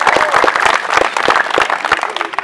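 Crowd applause for a volunteer fire brigade team at a municipal firefighting competition, dense and loud with sharp individual claps standing out, steady throughout.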